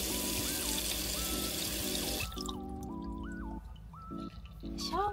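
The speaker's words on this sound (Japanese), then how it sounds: "ここに洗面があって、これ結構水しっかり、こっちの方が割と水がしっかりです。" Water runs steadily from the washbasin tap in a Toy Factory Fiat Ducato DA VINCI 6.0 campervan, a close hiss that drops after a couple of seconds, then turns to lighter splashing, with faint background music.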